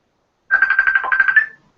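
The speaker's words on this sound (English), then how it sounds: "Sounds like a phone, fam. Yeah, someone's calling me." A phone's ringtone chirps once, a bright warbling electronic trill lasting about a second, loud and alone after silence.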